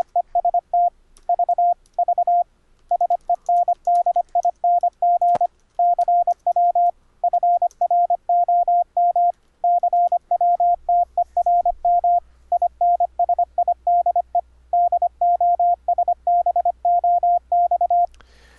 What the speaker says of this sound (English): CWTERM is a Morse code terminal